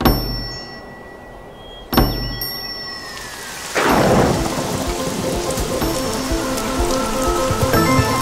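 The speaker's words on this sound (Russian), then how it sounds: "Это дождь надолго." Rain patters steadily on surfaces, with a couple of sharp cracks early on and a burst of thunder rolling in partway through.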